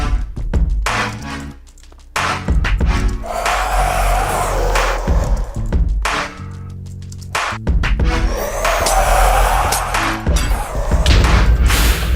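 Withers blow up in a Minecraft TerraFirmaCraft modpack world, loud booming blasts with shattering, crumbling debris, several explosions in quick succession separated by brief lulls.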